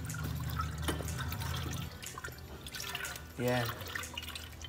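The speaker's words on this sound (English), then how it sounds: "We got some brake fluid, so we're gonna go ahead and top that off." Brake fluid is poured to top off the reservoir of a rebuilt wrecked BMW 135i, giving faint liquid trickling and dripping. Someone talks nearby while it pours.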